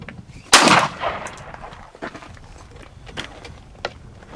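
A Sig Sauer P210 pistol clamped in a Ransom Rest fires a single sharp, loud shot, followed by fainter mechanical clicks and rattles.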